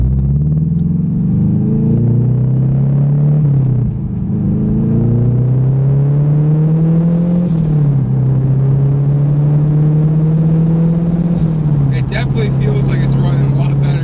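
Turbocharged Honda S2000 engine droning steadily under load on a drive, its pitch rising and dipping through shifts, loud and close from inside the car, with brief talk near the end.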